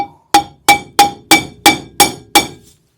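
A hammer gives eight evenly spaced, sharp metallic taps to an eccentric cam on a 1949 MG TC, each strike ringing briefly, close and loud with no talk.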